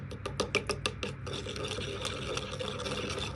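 Tamarind water for panipuri being stirred with chili powder, a run of quick scraping, rasping strokes in the first second that settle into a steady, softer swishing wash close by, with no talking.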